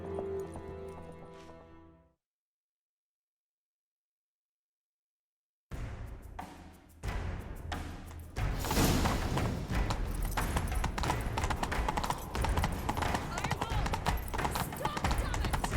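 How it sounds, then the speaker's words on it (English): Horses galloping in The Witcher 3 video game: music fades to silence, then rhythmic hoofbeats start and build into a loud, continuous galloping chase with a whinny, blended with game sound and spoken dialogue. "Grab a horse, we'll chase him down."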